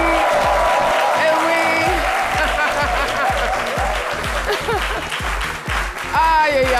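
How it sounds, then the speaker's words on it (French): Studio audience on a French daytime TV set applauding to welcome a guest, loud continuous clapping over a thumping rhythmic music beat, with voices briefly audible. "Tonnerre d'applaudissements pour la recevoir sur le plateau de Samedi."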